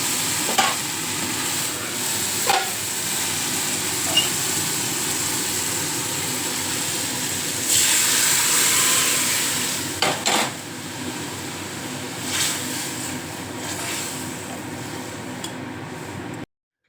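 Dal boiling in a pot, a steady bubbling, hissing wash with a louder surge partway through and a few metallic knocks of utensils against cookware, no voices.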